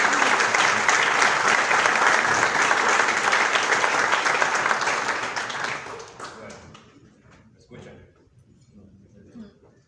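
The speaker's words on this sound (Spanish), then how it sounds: "Le damos un fuerte aplauso a Dani." Church congregation gives a loud, dense round of applause that holds steady for several seconds, then thins out and fades into scattered claps and quiet.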